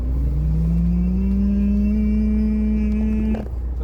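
A Volvo FMX 400 dump truck's fan clutch engaging, a loud rising drone that climbs steadily in pitch over the engine's rumble, then cuts off abruptly near the end.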